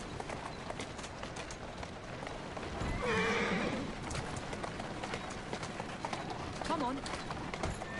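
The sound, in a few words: horse running in video game Assassin's Creed Syndicate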